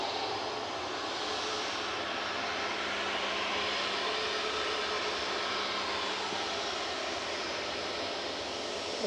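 An Etihad airliner passes overhead near Manchester Airport, a steady broad engine roar holding at moderate distance throughout with no voices.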